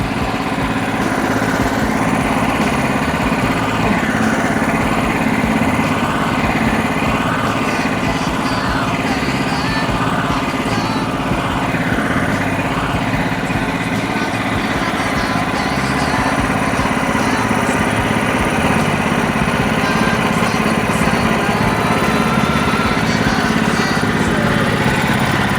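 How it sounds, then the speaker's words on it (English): Sawmill engine running while the mill trims the edges off a flooring board: loud, continuous engine drone with a rough mechanical rumble and slowly wavering pitch, steady throughout. "We're gonna have to put it back up on the mill to trim the edges off."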